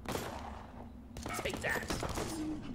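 Gunfire in the World War II tactics game Broken Lines, a quick volley of shots and thumps from several weapons, fairly faint and mixed with other game sounds.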